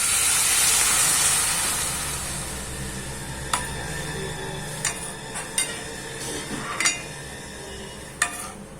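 Milk pours into a pot of cooking vermicelli kheer with a loud steady hiss and sizzle that slowly settles, broken later by several sharp metallic clinks and scrapes of a spoon against the pot.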